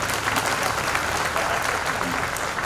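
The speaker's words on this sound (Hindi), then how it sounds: "लेकिन ताली बज रही है कोई" Dense audience clapping at a spoken discourse, a continuous loud patter of many hands with voices mingled in the background.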